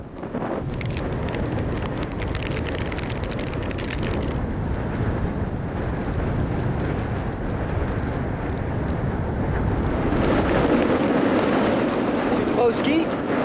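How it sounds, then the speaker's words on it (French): Hot, humid wind on a desert road in Egypt, a steady, loud roar buffeting the microphone throughout and swelling slightly toward the end. "le vent est chaud, brûlant, humide"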